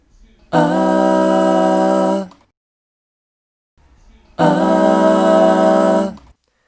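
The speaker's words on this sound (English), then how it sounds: "then I'm going to show you a four-part that sounds dissonant" Two held chords of four-part vocal harmony, the notes clashing in a tense, dissonant blend, separated by a short silence.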